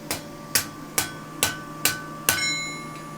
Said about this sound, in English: Try and knock that off with your hammer.